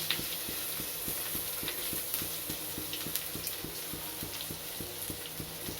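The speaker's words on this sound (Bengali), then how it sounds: "পেঁয়াজ কুচি দিয়ে দিলাম" Chopped onion hits hot oil already tempered with dried red chilli and black cumin for a Bengali taro-stolon dish, giving a steady, fairly quiet sizzle with faint regular ticking underneath and no talk.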